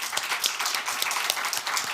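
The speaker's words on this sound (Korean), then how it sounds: "그래도 어쨌든 잘 마칠 수 있도록 우리 수고하셨다고 박수를 한번." A church congregation claps together at a Sunday thanksgiving service, a dense, steady patter of many hands filling the room throughout without pause.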